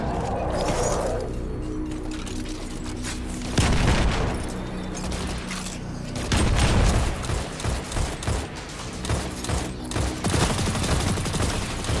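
Bursts of automatic gunfire and heavy impacts fill a Destiny 2 Grandmaster Nightfall fight, loud and close, with dense sustained volleys broken by several booming blasts.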